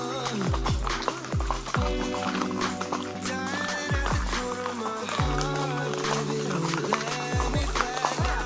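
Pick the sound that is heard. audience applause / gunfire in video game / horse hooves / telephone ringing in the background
horse hooves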